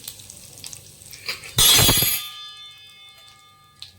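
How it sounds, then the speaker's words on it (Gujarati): Pinch of asafoetida dropped into hot oil with cumin in a heavy-bottomed kadai, giving a sudden loud sizzling burst that fades within about a second into a quiet, steady crackle, with no talking. "ચપટી હિંગ નાખીશું"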